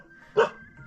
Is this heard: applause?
no